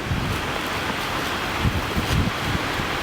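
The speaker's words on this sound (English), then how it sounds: "Beginning to rain now." Light rain beginning to fall outdoors on a university campus in Agbor, Delta State, Nigeria, a steady broadband hiss mixed with wind buffeting the microphone and a few low thumps.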